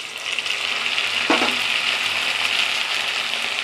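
A chilli, ginger, garlic and cumin paste fries in hot oil with a steady, close, bright sizzle, broken once by a brief stir of the spoon, and no voices.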